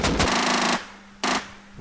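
A turret machine gun in a video game fires two rapid bursts of close, loud, evenly spaced shots, the first lasting most of a second and the second brief, separated by a short pause.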